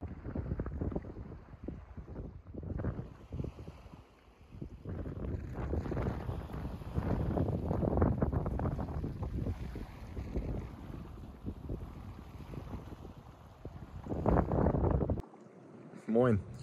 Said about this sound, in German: Jetzt ist gerade ein bisschen windig und bewölkt.